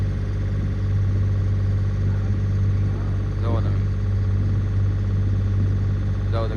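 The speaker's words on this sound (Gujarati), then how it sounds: "આમ જાઓ તમે ભાઈ, અમારી બોટ ચાલી જાય છે" A fishing boat's engine runs at sea with a steady, low droning hum and constant rumble, while voices talk over it.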